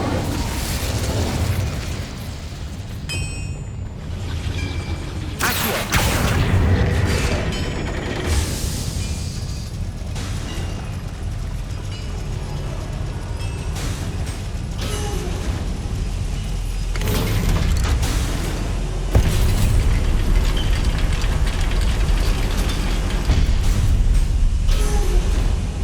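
Incendio fire spell cast in the video game Hogwarts Legacy, a burst of fiery whooshes and pops over continuous rumbling game sound and mechanical clatter, loud and close throughout.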